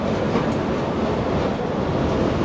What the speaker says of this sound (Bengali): এই যে সেই বিকট আওয়াজ আবার শুরু হয়ে গেছে এসির থেকে